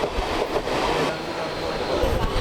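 A Mumbai train with open doorways rumbles past in a dense, continuous roar of rail noise and wind, steady and loud throughout.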